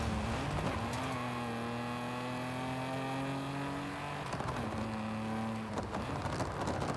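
Modded car engine with anti-lag in a Forza racing game, a sustained droning idle that rises and holds in pitch, dips briefly, then climbs again with crackling pops from the exhaust.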